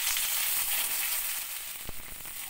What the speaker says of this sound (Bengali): এখন এতে আমি এই কেটে রাখা আলু আর শিম দিয়ে দিচ্ছি।